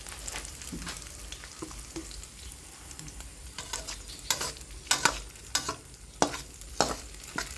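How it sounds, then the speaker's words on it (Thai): Garlic omelette frying in a pan for a simple breakfast, with a steady sizzle and stirring scrapes, then several louder, sharper crackles and clatters toward the end, close by and with no talking. "ก็เป็นไข่เจียวกระเทียม"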